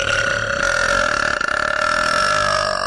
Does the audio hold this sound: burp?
yes